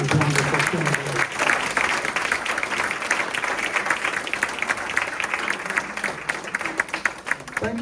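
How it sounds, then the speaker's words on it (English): An audience at a candidate forum gives sustained applause, dense clapping that holds strong for several seconds, with a voice briefly heard at the start. "here's your chance to applaud with gusto these wonderful candidates"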